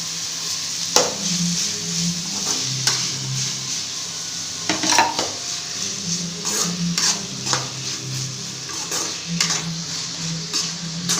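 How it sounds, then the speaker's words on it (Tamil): Onion and tomato fry in oil in a pan with a soft, steady sizzle. A spoon scrapes and clinks against the pan in irregular stirring strokes, up close, with no talking. "தக்காளி வெங்காயமும் நல்லா வதங்கட்டும்."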